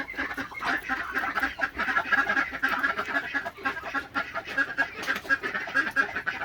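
Muscovy ducks call repeatedly at close range with loud, raspy, honking cries in an uneven, continuous chatter while being fed, with no talking.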